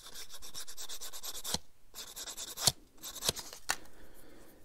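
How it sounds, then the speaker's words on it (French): Sandpaper rubbing on a small plastic part of a Panther tank model kit, in rapid rasping strokes with short pauses and a few sharp scrapes, close and alone. "Papier de verre."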